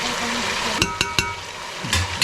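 Food frying and being stirred in a pan, with a steady sizzle and a few sharp scraping knocks of the spoon against the pan, heard close with no talk.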